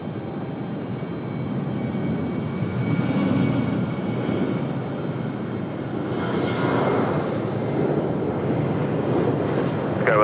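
A Reno Air airliner at Raleigh-Durham airport, a steady, loud engine roar heard from a distance that swells and then fades slightly as the aircraft passes.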